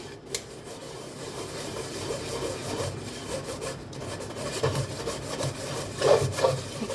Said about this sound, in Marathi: असं चाळणीनं का नाही घासून घ्यायचं पूर्णावाने